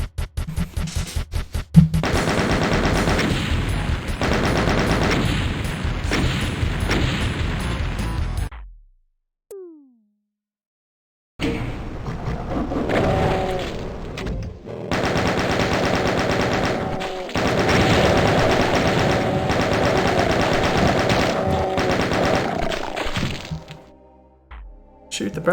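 Rapid automatic gunfire and cracking bursts from the video game Doom fill most of the stretch, loud and sustained. There is one brief silent gap, then the firing resumes with crashes and breaking sounds.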